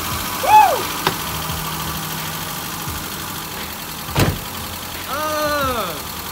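A Mitsubishi Eclipse engine runs just after starting, a low steady idle under excited shouts and whoops, with a sharp bang partway through.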